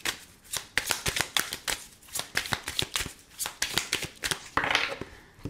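A deck of oracle cards is shuffled and cut up close, giving a continuous run of crisp riffling flicks and soft slaps in a steady rhythm for several seconds, with no talking.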